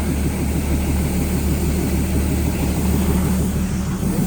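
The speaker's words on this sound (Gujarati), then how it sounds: "અને એન્જિન બહુ મસ્ત છે." A Matheran toy train engine runs with a steady, loud low rumble that holds evenly throughout, like a heavy diesel idling nearby, with no talk over it.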